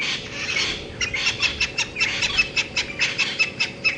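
A francolin calls at sunset on a game reserve safari drive, giving a run of repeated rhythmic raspy chirps, fairly close and clear over a low rumbling vehicle or background hum.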